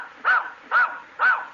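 A dog named Roger gives three loud, close barks in a steady rhythm, answering an arithmetic question on a 1943 comedy radio broadcast.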